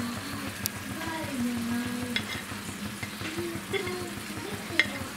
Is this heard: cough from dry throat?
no